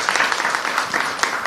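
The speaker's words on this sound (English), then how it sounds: "So let's give him a round of applause." Audience at a national summit on caregiving gives a brief round of applause, many hands clapping with scattered sharper claps standing out.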